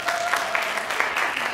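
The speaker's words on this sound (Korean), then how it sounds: "박수 한번 더 크게." A church congregation claps for a special performance during a service, giving steady, dense applause that fills the room at a moderate level.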